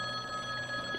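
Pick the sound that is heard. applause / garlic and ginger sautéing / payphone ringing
payphone ringing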